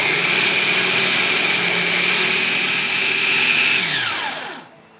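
A kitchen blender purees instant coconut milk with other ingredients for a tape roll cake, whirring loud and steady close up, then winding down and stopping near the end.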